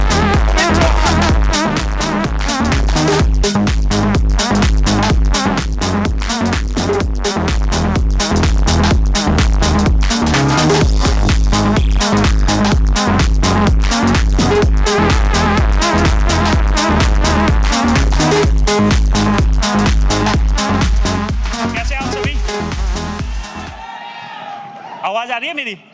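Audience at a direct-selling event hall clapping loudly and continuously to welcome a speaker, dense rhythmic applause filling the room before dropping away at the end.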